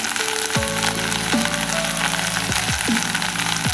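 Curry leaves and three green chilies fry in hot oil for an okra curry, giving a loud, steady sizzle that crackles and spits continuously, with no voices.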